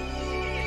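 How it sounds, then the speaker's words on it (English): Horse creature neighing in the video game Resident Evil Village: one sustained, strained whinny with a buzzing harmonic tone, loud and close with no speech. "The horse grew angry and summoned the other monsters."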